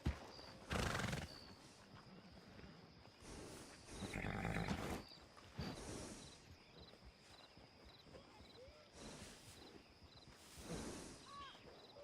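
A horse in the video game Red Dead Redemption II neighs in several loud bursts with clip-clopping hooves in between, all heard over a quiet outdoor ambience with a steady high chirping tone.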